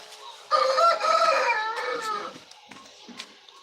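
A fighting rooster crows once, loud and close, its drawn-out call trailing off into a few softer clucks and small farmyard noises.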